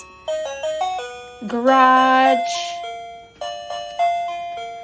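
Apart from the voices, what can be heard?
KERUI wireless doorbell chime ringing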